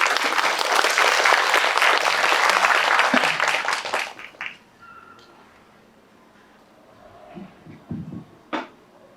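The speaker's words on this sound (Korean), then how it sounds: "박수 부탁드립니다." An audience at a residents' briefing on a redevelopment district claps loudly and densely for about four seconds before the applause tapers off, leaving a quiet room with a few scattered small knocks.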